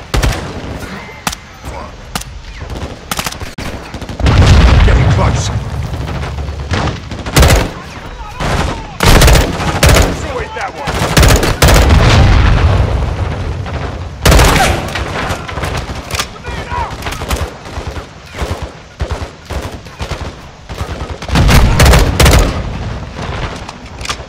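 Heavy gunfire and explosions in a Modern Warfare 2 campaign firefight at a gate and wall, with rifle bursts, an RPG blast and booming impacts rolling loudly and continuously as soldiers shout under the chaos.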